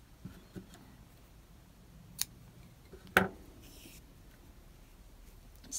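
Scissors snip through crochet yarn in a quiet room. One sharp, close cut stands out amid a few faint ticks and small handling sounds.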